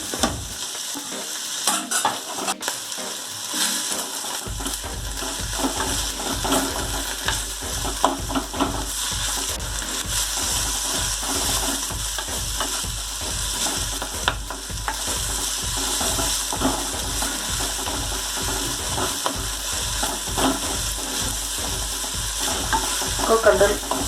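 Chopped spinach and tomato frying in a pan with garlic, a steady sizzle under repeated rhythmic scraping and stirring strokes from a spatula, close and continuous.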